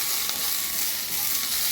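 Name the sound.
chana dal and urad dal frying in oil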